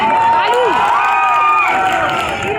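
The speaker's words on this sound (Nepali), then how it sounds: "सम्पूर्ण जेनजीको लागि एकछिन जोरदार ताली" Crowd at the Surkhet fair cheering and whooping loudly after a call for applause, many overlapping voices shouting in a continuous close burst.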